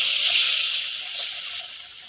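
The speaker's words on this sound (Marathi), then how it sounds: "आता पाणी ओतते आणि मग डाळ टाकते" Water poured into a cooking pot before dal goes in for a rustic varan phal, a steady hissing stream that fades gradually over two seconds.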